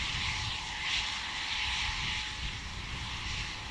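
Steady, loud roar of rocket venting during a Starship SN15 static fire test, a continuous broadband rush resembling a distant jet with no breaks or talk.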